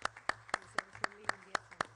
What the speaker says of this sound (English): the next item is the applause for the rapporteur